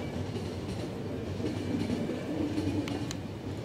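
A train runs steadily in The Final Station video game, its rumbling, rolling noise constant and close with faint clatter and a few brief high tones, no voices over it.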